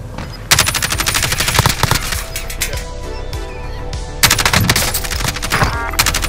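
Rapid automatic gunfire in Call of Duty on Rebirth Island, loud dense bursts of shots with a short lull in the middle before firing resumes.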